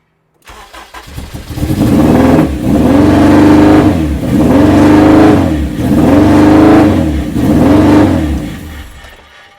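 A loud Honda Civic engine with only a mid-pipe and no rear silencer revs repeatedly in four or five surging pulses, raw and booming, close by.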